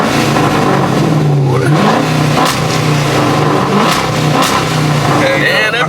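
A car engine revs loudly and close, the pitch climbing and dropping through several throttle blips, with people talking over it.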